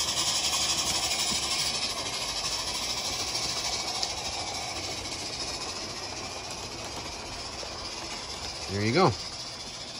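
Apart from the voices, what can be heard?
live steam model train running with hissing steam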